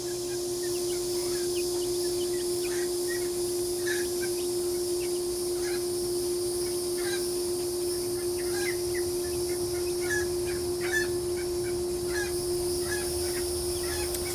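Silkie chicks in a coop give soft, high peeps and chirps scattered over a steady hum, faint and a little distant, with no talking.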